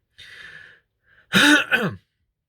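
A single throaty cough or throat-clear bursts out loudly after a brief faint breathy sound, then silence.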